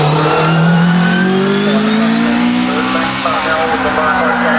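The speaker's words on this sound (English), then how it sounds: "Tom Hackett and the Volkswagen engine special looks very much like a June buggy" A Volkswagen-engined special sprint car, built like a beach buggy, revs hard at a Leyburn sprint meeting, its loud, rising engine note climbing steadily over about five seconds, close by, with faint talk underneath.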